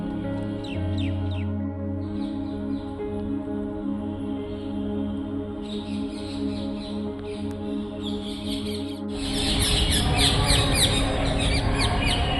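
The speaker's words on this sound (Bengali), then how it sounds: "পেছনে টিয়া পাখির জোরে জোরে আওয়াজ শুনতে পাচ্ছেন" Birds chirp and call in repeated rapid bursts at Princep Ghat in Kolkata, over a steady hum of traffic, with the calls growing louder and busier in the last few seconds.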